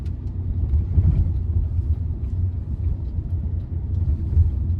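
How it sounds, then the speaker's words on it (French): Renault Scénic III 1.5 dCi driving on a road, heard as a steady low engine and road rumble from inside the car, with a few slightly heavier bumps as it rolls over manhole covers. "Je vais juste passer les plaques d'égout et dépasser le camion qui est juste ici."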